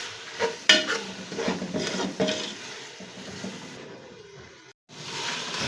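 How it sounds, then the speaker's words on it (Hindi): Mutton and tomatoes being bhuna-fried in a pot for dal gosht: a soft sizzle under scraping stirs and light clinks of a spoon on metal, fading briefly near the end. "अब हम लोग गोश्त को अच्छी तरह से भूनेंगे ताकि टमाटर जो हैं ये हमारे सॉफ्ट हो जाएं"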